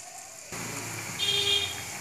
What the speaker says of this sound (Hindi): मीडियम आंच पर सिकने दीजिए ताकि अंदर से अच्छी सिकाई हो जाए